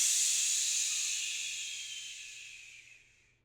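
A voice imitates a steam train letting off steam: one long, loud breathy hiss that starts strong and slowly fades away over a few seconds, with no talking.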